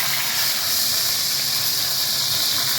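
Pork roast sears in a hot pan, a steady close hiss and sizzle with faint bubbling running unbroken throughout, no voices.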